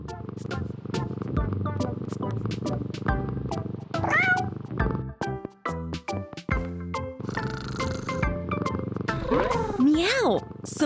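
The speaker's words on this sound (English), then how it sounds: "Meow! Some more cats want to play." Cartoon cats in a kids' pet care video game meow in several bright, rising calls over steady upbeat game music and sound effects, with a voice talking across much of it.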